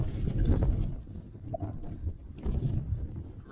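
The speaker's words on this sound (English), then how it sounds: "So yeah, the wind started to pick up." Wind gusting and buffeting during a snowstorm on Random Island, Newfoundland, a rough, blustery roar close to the microphone that surges and eases over a few seconds with no talking.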